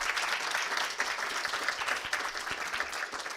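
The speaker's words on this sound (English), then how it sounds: "let's have another big round of applause for our panel" Audience applause after a panel discussion at an AI conference, a dense steady clapping from a crowd that fills the room for several seconds with no voices over it.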